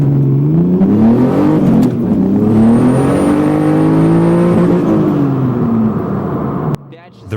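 A turbocharged BMW E36 with an M50B25 engine revs hard through the gears, loud and close, its pitch climbing and dropping at each stiff, struggling shift before cutting out abruptly near the end.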